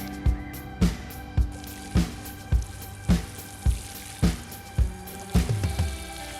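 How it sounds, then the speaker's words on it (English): Newly planted sweetcorn is being watered, with about ten evenly spaced splashing pours of water striking soil one after another, close and moderately loud. "All that they need now is a good watering."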